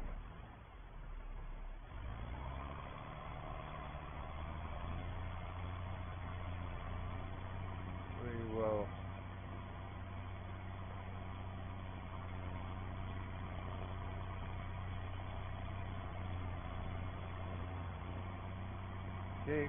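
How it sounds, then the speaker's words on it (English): Ford 7810 tractor working with a blue baler in straw and hay, a steady close engine drone with a deep low hum, a brief rising whine partway through, and voices faintly underneath. "It's nice having a blue baler on a blue tractor."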